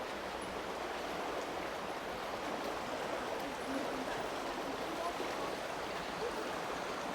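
Steady broadband rush of water flowing along a waterway, a continuous even wash without breaks, moderately loud and close, with no distinct voices standing out.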